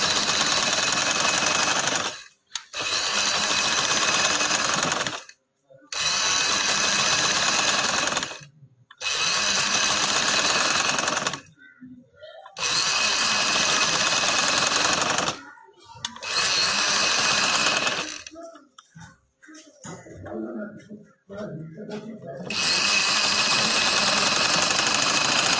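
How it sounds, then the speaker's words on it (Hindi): An electric sewing machine stitches a sleeve seam, running loud and close in several steady bursts of a few seconds each, with short quiet gaps between them and a stretch of handling noise. "तो अब इसकी मैं सिलाई लगा लेती हूँ।"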